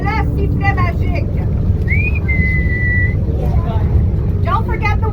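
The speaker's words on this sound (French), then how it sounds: "Don't forget the whistle," A safety whistle on an amphibious tour bus in Ottawa gives one rising chirp, then a sustained steady shrill note, heard over the bus's engine rumble with people talking before and after.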